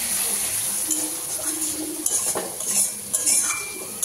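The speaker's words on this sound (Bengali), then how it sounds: "নারকেলের দুধটা দিয়ে কষাবো।" Spice paste and coconut milk for a malai curry are stirred and sautéed in a pan, giving a continuous close sizzle with occasional utensil scrapes and clinks.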